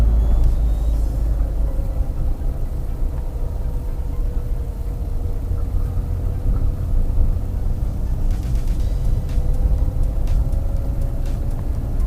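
Car engine droning steadily while driving, with a low continuous rumble and a faint pitch shift as the gearbox goes from first to second gear; no voices, constant level throughout.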